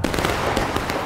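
Musket volley fired in a multiplayer Civil War skirmish video game, a loud burst of overlapping gunshots crackling together in a dense, rolling roar that fills about a second without any voices.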